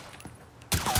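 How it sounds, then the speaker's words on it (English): Gunfire in the video game Mafia III: a loud broadband burst of shots begins partway through and continues to the end, after a quieter stretch of background ambience. "Quit shooting at me, would you?"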